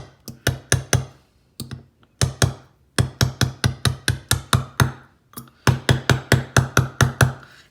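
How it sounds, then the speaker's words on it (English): A hammer strikes a dapping punch to curve a thin metal earring piece, giving a series of sharp, close, evenly spaced metallic taps in quick bursts with brief pauses between groups. "this down with my hammer to get a little bit of a curve into it"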